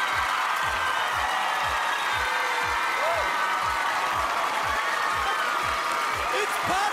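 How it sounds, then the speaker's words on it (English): Studio audience at the Australia's Got Talent grand final applauding loudly and steadily, with a dense wash of clapping and occasional cheers over a rhythmic low pulse of music. "And keep the applause going."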